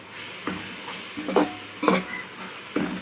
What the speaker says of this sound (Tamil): தனி மிளகாய் தூள் கொஞ்சோண்டு மஞ்சள் சேர்த்து நல்லா வதக்கிடும்